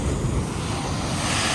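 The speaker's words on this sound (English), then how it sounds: "We cannot cliff jump when the waves are like this." Big ocean waves crash against rocky cliffs on the Puerto Rico coast, a steady loud roar of surf blended with gusty wind buffeting the microphone, with no voices.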